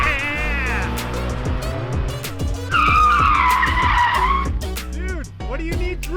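Ford Focus drifting, tires skidding and squealing loudly with engine revving nearby, the screech rising and warbling for several seconds over a steady motor rumble, with a brief voice at the start.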